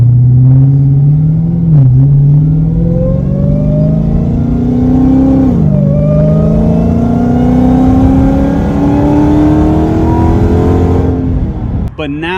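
A supercharged Dodge Hellcat engine with raised boost revs loudly up close, its blower whine climbing steadily in pitch over a deep rumble, with a couple of brief dips and a sharp drop at the end.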